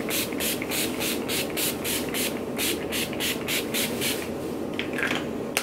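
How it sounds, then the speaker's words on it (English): Urban Decay Chill setting spray pumped in a rapid series of about fifteen short, crisp hissing bursts over makeup, close and fairly loud, with no talking. "I'm just gonna do a quick setting spray with this Urban Decay Chill"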